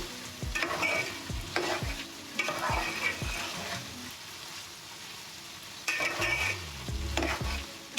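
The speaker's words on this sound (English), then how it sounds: "All the veggies are starting to fry now." Vegetables with spices stir-frying in a pan for a vegetarian prawn and paneer dish, a steady sizzle broken by repeated scraping stirs of the spatula, close and fairly loud with no talk.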